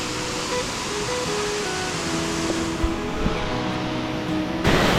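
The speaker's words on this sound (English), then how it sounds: "almost to the tea house, we have a little cascade of a waterfall" A small cascading waterfall on the Lake Agnes trail near Lake Louise, a steady broadband rush of falling water heard close and continuous for the whole stretch, with no voices.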